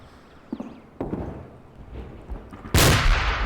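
A mortar firing a white phosphorus shell in a military video game sounds as a sudden loud, close boom after a few faint thuds and clicks, its blast trailing off over the last second.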